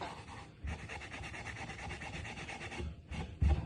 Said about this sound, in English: some spray on olive oil, so a nice organic oil, and some wire wool to lift off any dirt or rust